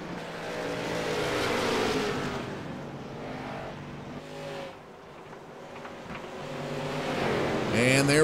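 Late model stock cars roar through turns 3 and 4 at a SARA oval race, a sustained, blended engine drone from the pack that dips midway and swells again, with a commentator talking over it.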